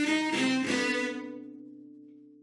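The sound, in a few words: Shostakovich DSCH four-note motif, String Quartet No. 8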